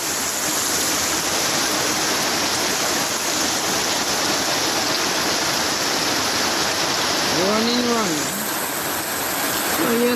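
Rainwater rushes off a road into a gully during heavy rain in Sunderland, a loud steady wash of water that continues throughout, with a brief tonal sound rising over it near the end.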